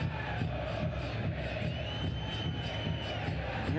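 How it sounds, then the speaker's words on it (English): Stadium crowd at a Concacaf League 2022 football match between Real CD España and CS Herediano, a steady dense roar of many voices with scattered shouts and whistles, continuous and fairly loud throughout. "Crowd starting to get a bit frustrated, you can hear in the background"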